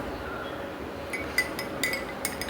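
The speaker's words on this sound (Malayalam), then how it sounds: "ഒരു അര ടീസ്പൂൺ വീതം നമുക്ക് പഞ്ചസാര ഇട്ട് ഇളക്കിയെടുക്കാം" Metal teaspoon clinking against a glass while stirring sugar into mint tea, a few light, sharp ticks scattered over a steady low background hiss, close and fairly quiet.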